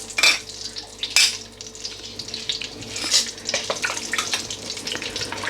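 Whole spices fry in hot clarified butter in a pot for a lamb biryani, a close bubbling sizzle with a few sharp spits and metallic stirring scrapes, no speech.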